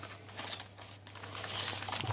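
Baking paper is peeled away from the underside of a baked cheese, onion and potato puff pastry pie, making steady close crinkling and rustling with some faint tearing.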